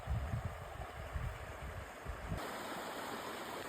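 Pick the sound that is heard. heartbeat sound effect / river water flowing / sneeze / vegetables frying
river water flowing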